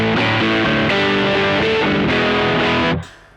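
Electric guitar played through a TC Electronic Nova Drive pedal on the neck pickup, giving a warm, smooth distorted tone: loud sustained chords for about three seconds, then cut off and left to ring out quietly.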